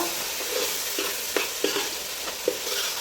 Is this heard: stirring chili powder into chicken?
yes